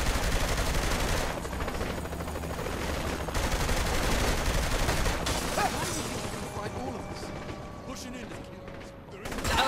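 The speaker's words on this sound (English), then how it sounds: "let's just shoot these motherfuckers!" Gunfire in the video game Saints Row: The Third rattles almost nonstop, dense and loud, with bursts of automatic fire and clanking mechanical effects.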